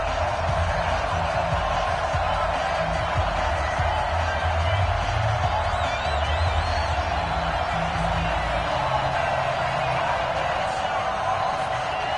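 A stadium crowd roars continuously and evenly for an NFL game between the New England Patriots and Green Bay Packers in an EA Sports football game, a steady wash of cheering with a commentator's voice over it.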